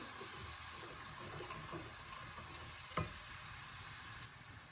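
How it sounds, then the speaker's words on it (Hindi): Spice masala frying with yogurt in a pan for shrimp pulao, a soft, continuous sizzle with faint stirring scrapes and one sharp clink, heard close but quiet, with no speech. "अब मैं दही के साथ मसाले को भून रही हूँ।"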